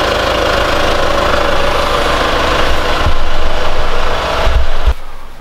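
A 2018 Kia Sorento Prime 2.2 engine idles loudly and steadily close by after a fuel filter replacement, with a low rumbling drone and slight knocking, then cuts out abruptly near the end.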